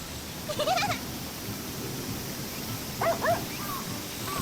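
A dog in the video game Sakuna: Of Rice and Ruin lets out two short bursts of yelping barks, about two seconds apart, over a steady hiss of game ambience.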